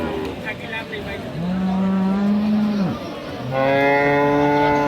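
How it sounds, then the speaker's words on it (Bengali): A Friesian cow with her calf lows twice at the Ambari cattle market in Dinajpur: one long, steady moo, then a second, louder one. Faint market noise and voices sit in the background. "গাভী বাচ্চা আছে কিন্তু"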